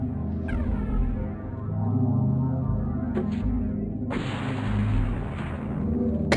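Mortar artillery fire in the Spellcross video game: a few whooshing launches and booming impacts, one sharp burst near the middle and a heavier blast later, over a rumbling game soundtrack.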